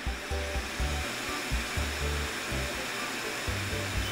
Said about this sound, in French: ils permettent respectivement de passer le ventilo à fond